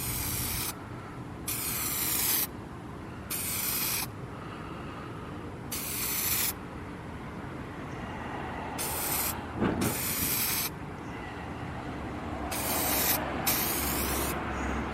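SEM Color Coat aerosol paint sprayed onto a car's plastic trim in a heavy final coat, heard as bursts of close, loud hissing spray separated by short pauses, with no talking.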